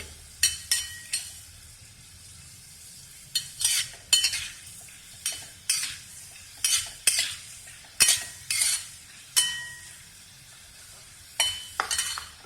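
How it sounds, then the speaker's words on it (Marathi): Cumin seeds in hot oil in a pan for sabudana khichdi with potato, a spoon scraping and clinking against the pan in repeated stirring strokes over a faint sizzle, with no voices. "आता आपण थोडीशी जिरी घालून देऊ. जिरी पण आपली फुललेली आहे."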